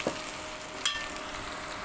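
Snake gourd frying on high heat in a pan, giving a steady soft sizzle with a couple of brief clinks or stirring scrapes, close and fairly quiet.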